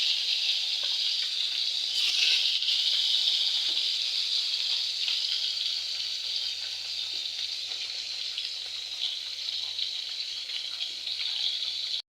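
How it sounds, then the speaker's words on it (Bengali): Spiced fish pieces, seasoned with cumin powder, frying in hot oil in a wok, giving a loud, steady, hissing sizzle that runs unbroken and close throughout, swelling briefly early on, with no one talking. "এবার আমরা এগুলো তেলে ছেড়ে দেবো।"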